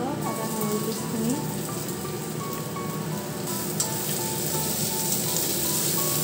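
Ginger and garlic frying in a pan for a pea and mushroom curry, a dense, even sizzle running close and loud from start to finish with faint voice traces and light utensil taps.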